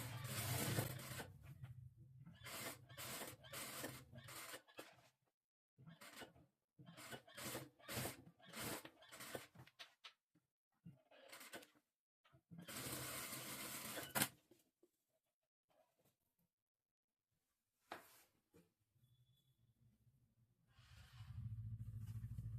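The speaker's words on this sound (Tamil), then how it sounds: "இப்போ லைனிங்கில் ஒரு ஸ்டிச் போட்டுக்கலாம்." Sewing machine stitching the lining of a saree being made into an umbrella dress, running in repeated short bursts with brief pauses between them, fairly close and steady.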